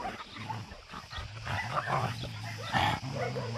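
A pack of dogs roaming free in large groups at Takis Shelter barks and yelps in an overlapping clamor, some close and loud, others further back.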